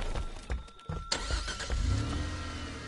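A slow car driven in a Friday the 13th-style video game, its engine starting and revving with a mid-pitched hum that settles into a steady, moderately loud drone after some clunks and knocks.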